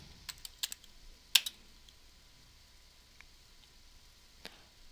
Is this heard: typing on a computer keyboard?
yes